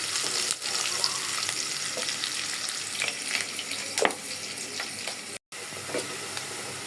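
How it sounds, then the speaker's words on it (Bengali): Onions fry in a pot over a stove, giving a steady, close sizzle and crackle with occasional sharper pops and stirring scrapes, with no talking. "পেঁয়াজটা কিন্তু ভাজা হয়ে গেছে"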